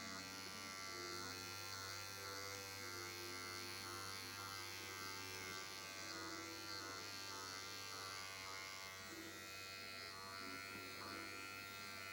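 An electric microneedling pen buzzes on skin with a steady, faint, continuous hum that holds an even pitch throughout and has no voices over it.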